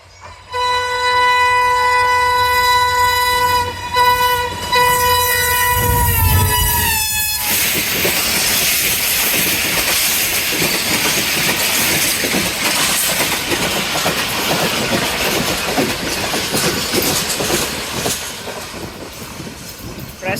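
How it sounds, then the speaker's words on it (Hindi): Karachi Express passenger train led by an AG30 locomotive speeds past at Jungshahi. A loud multi-tone horn blares first, then a sustained rushing roar with rail clatter continues close by. "Impressive speed by Karachi Express 15 up. AG30 6012 on lead"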